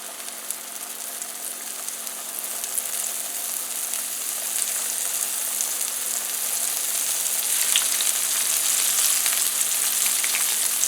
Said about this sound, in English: the oil's good and hot, so we'll go ahead and lay these in there. Let them start frying